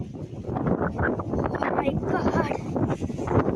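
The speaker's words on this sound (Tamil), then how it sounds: "காற்று செம்மையாக அடிக்குது" Strong wind blows steadily outdoors, a loud, continuous gusty rush buffeting the microphone throughout, with a voice faintly present underneath.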